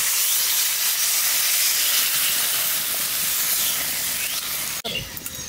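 Water hitting a hot pan of spices for a steamed katla fish dish, a loud continuous steam hiss that holds steady for several seconds before briefly cutting out near the end.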